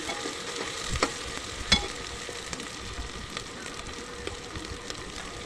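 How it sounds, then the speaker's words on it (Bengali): Ginger, garlic and spice paste fries in a pan while being stirred for a beef curry, giving a steady soft sizzle with a few sharper scrapes and clinks near the start, close and moderately quiet, with no talking. "দিয়ে একটু নেড়ে চেড়ে ভেজে নেবো যাতে মশলার কাঁচা ভাবটা চলে যায়"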